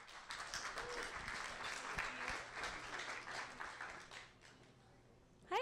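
Lively audience applause at an evening science pub trivia event, a dense wash of clapping sustained for about five seconds and then tapering off, ending with a brief louder burst.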